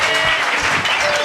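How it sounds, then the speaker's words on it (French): A church congregation applauds during a Sunday worship service, a dense, steady wash of clapping that fills the whole moment without a break. "Acclame ton Seigneur."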